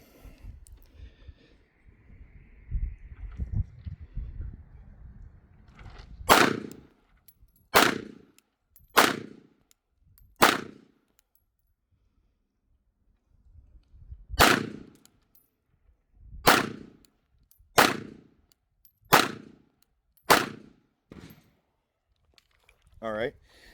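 Smith & Wesson Bodyguard 2.0 pistol firing about ten sharp, loud shots, first in a quick cluster of four, then after a pause a second volley of six, with low talk and handling noise before the shooting begins.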